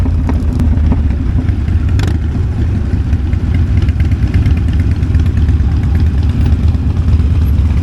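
A Triumph motorcycle engine rumbles on an Edinburgh street during the Distinguished Gentlemen's Ride, a steady, close, low drone throughout with no voices.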